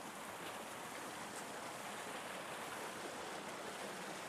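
River flowing beside Marcos Highway on the way up to Baguio, a constant soft rushing wash of water, steady and fairly faint, with no voices over it.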